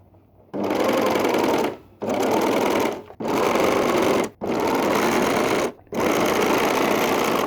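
Sewing machine stitching the top edge of trousers on the right side of the seam, running loud and close in four long steady bursts separated by brief pauses, with no talk.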